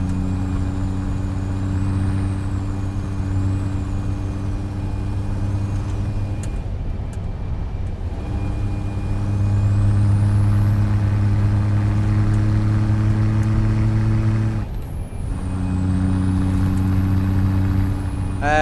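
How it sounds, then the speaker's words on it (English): A Peterbilt 389 truck engine rumbles steadily with a deep, loud idle. Two sharp hisses of air brakes break through it, the second longer, and the engine note rises slightly between them. "Sounds lovely, doesn't it? The sound suits the truck so much."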